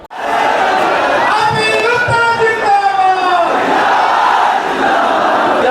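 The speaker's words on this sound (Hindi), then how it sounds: "आप जो भीड़ देख रहे हैं पटना के गांधी मैदान में" A huge crowd of women, children and men packs Gandhi Maidan in Patna under hot sun for a political party rally, roaring and chanting loudly and continuously close by, with raised voices cutting through.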